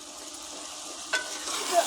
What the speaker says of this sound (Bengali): আবার আমি ভালো করে নেড়ে দিলাম